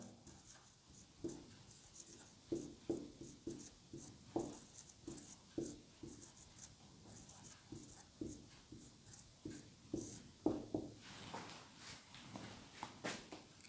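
A pen scratches out a handwritten definition, with irregular close strokes and taps in short bursts and pauses as words are formed, over a quiet room with no speech.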